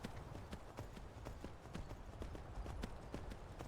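Horse hooves clip-clopping in the Skyrim video game, a steady rhythmic series of sharp close hoofbeats at a walking pace, continuing throughout.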